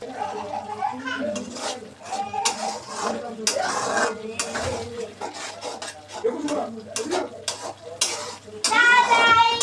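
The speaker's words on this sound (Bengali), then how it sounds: "এবার মশলাগুলোকে ভালো করে কষিয়ে নেব।" Ground spices, including black pepper, fried and stirred in a pan for Chittagong loitta shutki patori, with clattering utensil strikes against the pan and a faint sizzle under almost continuous talking.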